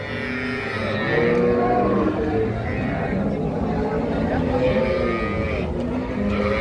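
Dairy cows at a crowded wholesale cattle market in Sharatnagar moo loudly and repeatedly over a steady din of crowd noise and nearby talk.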